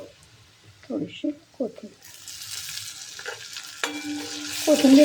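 Fresh coriander tossed into a hot sizzling tempering and stirred, with a clatter of utensil strokes and scraping followed by a steady bright hiss of frying oil rising in loudness near the end.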